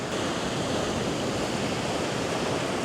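Ocean waves washing steadily onto a beach at sunrise, a loud, continuous rushing surf with no breaks and no voices.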